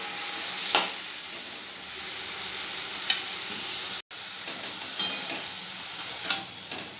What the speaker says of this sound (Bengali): পাঁচফোড়ন দিয়ে আলু আর ডাঁটাটা ছেড়ে দিয়েছি, একটু ভাজা ভাজা করে